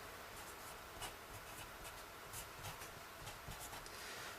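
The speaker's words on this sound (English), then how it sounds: "I'm going to write down the equation" A math equation being written out by hand, faint continuous scratchy strokes with small taps, quiet and close with no talking.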